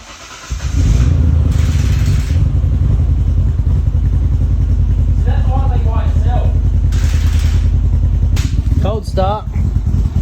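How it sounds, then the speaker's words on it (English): Nissan R31 Skyline with a turbocharged RB30 engine cold-starting, then running at a loud, steady, slightly lumpy idle close by, with people talking briefly over it. "Cold start, and as soon as she warms up, she won't idle."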